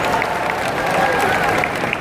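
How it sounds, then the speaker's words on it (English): Audience applause for participants in a live Wing Chun martial arts demonstration at Tampines Hub, steady dense clapping from a crowd throughout the short stretch with some background voices mixed in. "Let's just give them a round of applause to just encourage them."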